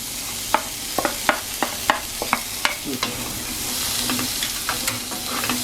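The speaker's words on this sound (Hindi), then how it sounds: "इसे 3 से 4 मिनट के लिए हम इसे सौते कर लेंगे। मतलब चलाते रहें, रुके नहीं।" Mixed vegetables are sautéed and stirred in a pan. A soft sizzle runs underneath, and roughly a dozen sharp spatula clacks and scrapes come at an irregular, brisk rhythm, close by with no voices.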